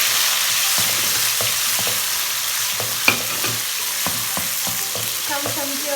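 Fried onions sizzle steadily in a pan for dhaba-style daal mash as tomatoes go in, with a loud continuous frying hiss broken by repeated stirring scrapes and one sharp clack.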